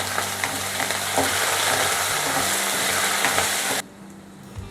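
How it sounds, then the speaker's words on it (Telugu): Dried red chillies, curry leaves and lentils frying in hot oil for a Telugu banana curry, a steady loud sizzle with stirring scrapes that drops away sharply near the end. "ఎండుమిర్చి, కరివేపాకు వేసి పప్పులు వేడే బ్రౌనిష్ అయ్యేంత వరకు వేయిద్దాం."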